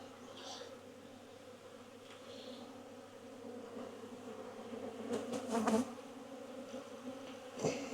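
Honey bees at hives in a bee yard hum softly at a distance, with a few louder buzzes passing close by near the end.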